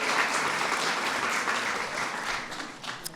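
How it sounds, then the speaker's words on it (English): Audience applause for Lonnie Ali and six of her children at a White House Eid al-Fitr reception, a dense, steady wash of clapping from a large crowd that slowly tapers toward the end. "So please give them a big round of applause."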